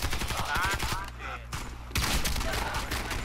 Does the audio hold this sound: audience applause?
no